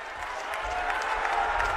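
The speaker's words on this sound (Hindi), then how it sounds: "जिता देंगे तो एक बार हाथ उठाकर ताली सब लोग बजाइए" A crowd at an outdoor BJP election rally in Murshidabad claps steadily together, a broad, even wash of applause that swells slightly toward the end.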